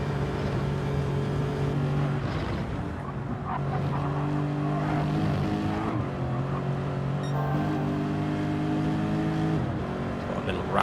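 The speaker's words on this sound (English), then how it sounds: "The Lexus does sound pretty nice." Lexus race car engine heard amid continuous loud racing-circuit noise, a steady sustained engine drone with harmonic tones running throughout, mixed with crowd and track sounds and some talk over it.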